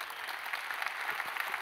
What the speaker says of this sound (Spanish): ¡Qué aplauso mañanero!